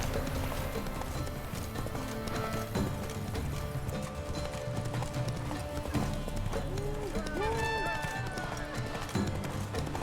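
Roach, a horse in The Witcher 3 game, gallops with quick, rhythmic hoofbeats and briefly neighs, the clip-clop running steadily under game music and a voice.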